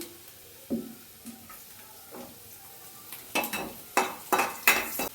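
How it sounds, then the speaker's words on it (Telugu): Chilies and onions fry on high flame for aloo manchurian, with a spoon stirring and scraping the pan in several quick bursts over a low, steady sizzle. "మిర్చి అండ్ ఆనియన్ మంచిగా ఫ్రై అవ్వాలి మొత్తం"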